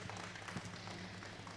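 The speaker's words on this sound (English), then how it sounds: "let's give them a big round of applause, a really beautiful group" Audience applause at an alpaca show, a faint, distant patter of clapping spread evenly across a couple of seconds over a low hall hum, with no voices over it.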